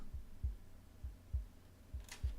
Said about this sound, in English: Alright, heartbeat.